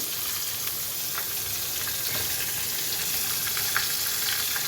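Green chilies fry in hot oil with urad dal tempering, giving a steady, close hiss of sizzling with faint crackles throughout and no talking.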